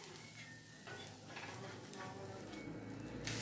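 A wheat flour dosa fries in oil on a pan with a soft, steady sizzle and faint crackle, quiet and close, and a few light ticks from the pan.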